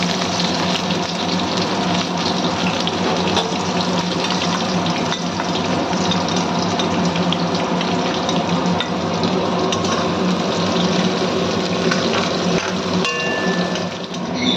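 Chopped onions and green chillies frying in hot oil with spices for a Bengali lote fish dish, a dense, steady sizzle that runs loud and unbroken throughout.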